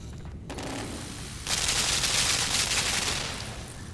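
A gun in the video game Limbo fires in a dense, sustained burst of rapid shots that begins suddenly partway through and keeps going loudly to the end.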